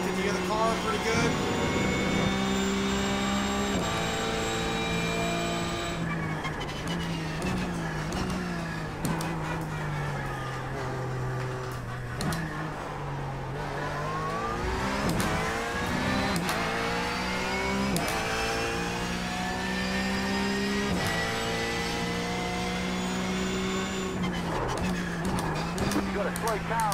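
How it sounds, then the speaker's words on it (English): Race car engine in the iRacing sim, revving and shifting continuously with rising and falling pitch sweeps, loud and close, while a voice talks over it. "Can you hear the car pretty good?"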